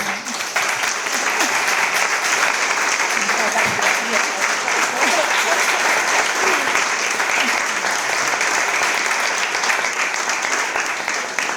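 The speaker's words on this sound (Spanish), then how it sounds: "yo pediría un aplauso muy fuerte para los que..." Loud, steady applause from an audience at a publishing-business marketing event fills the whole stretch without a break, dense clapping with some crowd voices mixed in.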